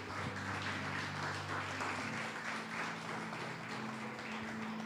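Church congregation applauding together, a steady broadband wash of many hands clapping at moderate distance for several seconds, with a low hum running underneath.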